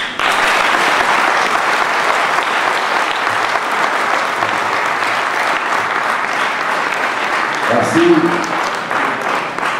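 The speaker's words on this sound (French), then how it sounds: "Merci pour ces applaudissements à l'endroit du docteur Owona Kili" Audience applause for Dr. Owona Kili after a talk on Cameroonian political literature, sustained dense clapping filling the room for nearly ten seconds, with a brief spoken word near the end.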